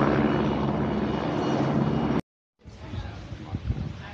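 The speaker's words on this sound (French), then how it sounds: "il y a vraiment beaucoup d'hélicos là" Helicopters fly overhead during the Tenerife BlueTrail 97 km mountain race, a loud steady rotor and engine roar that cuts out briefly, then returns fainter and rougher with scattered thumps.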